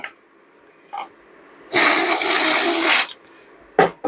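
Spray cleaner blasts in one sustained hiss of about a second onto freshly soldered pins of an Oric Atmos circuit board, loud and close, with faint handling clicks before and after.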